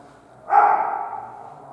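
A single sharp bark from a sick dog inside an abandoned retirement home, fairly close and sounding alone in a quiet room, with a brief fading tail.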